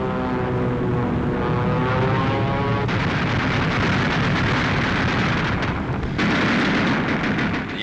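WWII bomber engines droning in flight in 1943 combat footage, a steady loud propeller roar that gives way to dense rattling bursts of gunfire and flak over the continuous engine noise.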